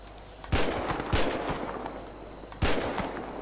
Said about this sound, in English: Right, we've got to empty our mag.